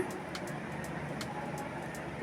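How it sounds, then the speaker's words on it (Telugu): Sambar with dal, tamarind water and small onions simmers in a pot, a low steady bubbling rumble with soft repeated pops of bursting bubbles, close by and free of talk. "చూడండి ఇప్పుడు బాగా ఉడుకుతుంది కదా"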